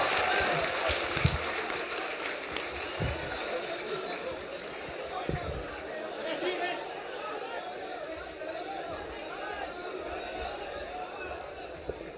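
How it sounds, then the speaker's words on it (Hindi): An audience at an event for Awadh Ojha in a Delhi stadium breaks into steady applause that holds for about twelve seconds, with crowd chatter and voices mixed through the clapping. "चलिए अवध ओझा जी के लिए जोरदार तालियां।"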